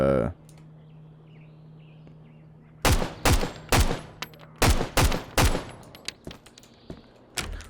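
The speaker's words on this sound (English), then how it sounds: "We got some pretty good shooting done there, but you know, otherwise we're just trading shots from a distance" Rapid bursts of gunfire exchanged in the survival shooter game Road to Vostok, roughly seven sharp, loud shots in an uneven cluster after a quiet stretch, with a few fainter cracks trailing off.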